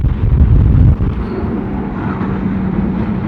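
High wind drives snow during a winter blizzard, a loud buffeting roar of gusts striking the microphone that peaks early, then settles into a steady rush.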